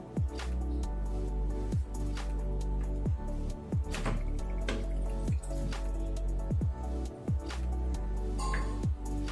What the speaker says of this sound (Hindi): मैं अपना वो पाइप डिसअटैच कर रहा हूँ जिसके थ्रू इस मेम्ब्रेन फिल्टर की हाउसिंग में पानी एंटर करता है